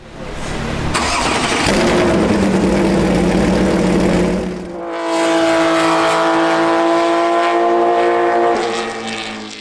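A Porsche 911 Carrera S 3000 cc flat-six twin-turbo engine cranks and fires into a loud, rough idle, then revs up with a rising growl and holds a steady, throaty drone.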